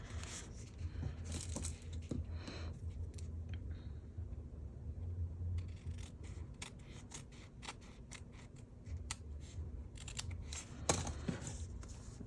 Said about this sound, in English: Then I'm gonna trim down here to clean this bit off.